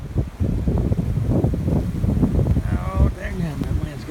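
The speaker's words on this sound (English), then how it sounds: "Oh, dang, that wind's got a bite." Blizzard wind buffets the microphone in a continuous rough, low roar that gusts unevenly, with a person speaking over it.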